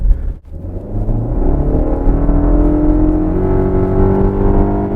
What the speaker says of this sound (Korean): 이 정도 엔진 소리는 거친 소리는 아니고요.